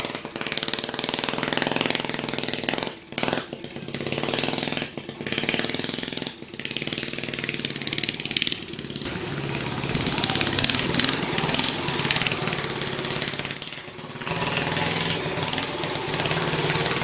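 A custom DIY mini bike with a new 9hp engine runs loudly and continuously through the ride, its revs rising and falling with brief dips, close to the listener with no talk.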